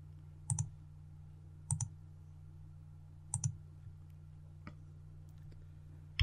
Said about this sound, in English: click anywhere on the grid to make four vertices